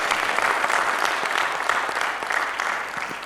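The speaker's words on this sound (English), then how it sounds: "May I have a big round of applause for Justice Pratibha." A conference audience gives a full, sustained round of applause for a panel speaker at a session on collective rights management, steady dense clapping throughout.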